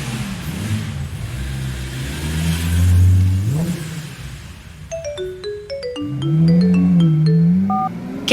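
A Ferrari engine revs hard in a dramatized scene, rising to a loud roar and sweeping up in pitch, then settling into a second rev while bright electronic chime tones ring out on top.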